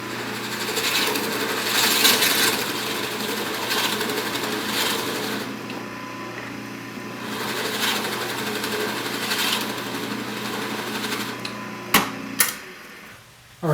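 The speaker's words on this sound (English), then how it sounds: "drill a hole with my Forstner bit through this first sheet of plywood for a dowel in the center" A drill with a Forstner bit bores a hole through a sheet of plywood, giving a steady, loud whirring grind for about eleven seconds before it stops, followed by a few sharp knocks at the end.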